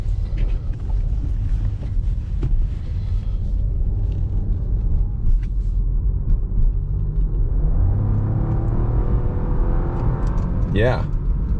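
A 2024 Buick Envista SUV drives along with a low, steady rumble of engine and road noise from inside the cabin, loud and continuous, with a brief higher sweeping tone near the end.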